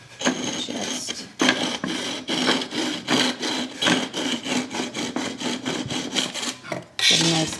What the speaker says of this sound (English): get a nice clean cut right there to trim that up